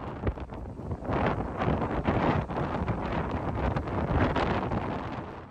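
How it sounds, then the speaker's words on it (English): Strong night wind sweeps across a lake campsite at Convict Lake in the Eastern Sierra, a steady, loud roar buffeting the microphone with gusty rises and no voices. "the winds really picked up."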